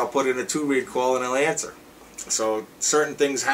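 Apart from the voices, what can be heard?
No distinct noise like a dog, phone or traffic.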